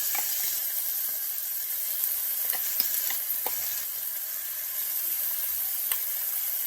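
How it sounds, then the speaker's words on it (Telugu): Green chilli paste and curry leaves fry in hot oil for a potato curry, a steady bright sizzle with occasional soft clicks of a spoon stirring the pan, close by and with no talk. "ఈ గ్రీన్ చిల్లీ కారాన్ని కూడా ఈ చిల్లీ పేస్ట్ని ఫ్రై చేసుకోవాలి"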